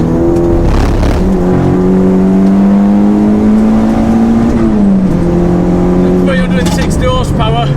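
A modified Audi TT converted to a K04 turbo, rated around 360 horsepower, accelerates hard on a track, its engine note climbing loud and close through a gear change, with someone talking over it.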